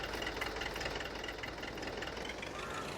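An 85-horsepower tractor engine in Farming Simulator 22 runs steadily at close range, a continuous knocking, idling drone with a faint mechanical vibration that holds even throughout.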